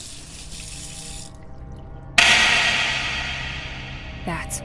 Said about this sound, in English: She lets the water run.